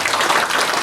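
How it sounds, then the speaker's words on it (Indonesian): Audience at a seminar clapping, a brief, dense burst of many hands applauding together at close range. "Tepuk tangan dulu, Bapak Ibu."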